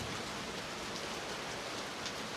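Steady rain falls during a rest day at home, a soft, even hiss of drops spread evenly throughout, fairly faint and with no voices.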